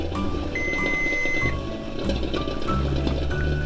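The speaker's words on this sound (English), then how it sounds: "Beep went off, fire goes off." A kitchen timer set for boiling eggs sounds off with a few short, steady electronic beeps over a low hum of background room noise.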